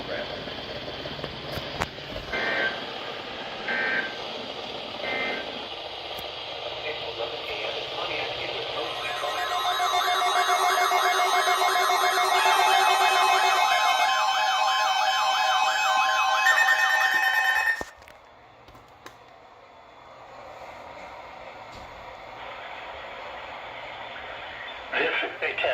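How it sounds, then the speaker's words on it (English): NOAA Weather Radio warning alarm attention signals sound as a loud, rapidly warbling electronic tone lasting about nine seconds. A voice-like broadcast comes before it, and quieter sound follows. "The attention signals you just heard will automatically activate special receivers to warn of the impending hazard"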